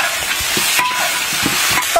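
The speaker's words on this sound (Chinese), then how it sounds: "快速给牛尾巴翻炒上色" Oxtail stir-fried in a wok of oil and caramelized sugar sizzles loudly up close, with quick repeated scrapes and clanks of the spatula tossing the pieces.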